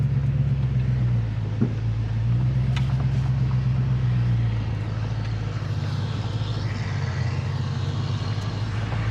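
A 1966 Ford Mustang convertible pulling away as the clutch is released, its engine a low steady drone that rises and falls in pitch, with road rumble and wind underneath.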